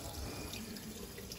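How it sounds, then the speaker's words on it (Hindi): Water being poured onto the soil of a potted plant, a steady close splashing and gurgling flow with no pauses. "हाँ, पानी दे रही है मम्मा सॉइल में।"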